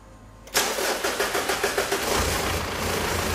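A Mitsubishi Pajero 3.2-litre diesel cranks with a quick series of rhythmic chugs, then catches and settles into a loud, rough, clattering idle close by.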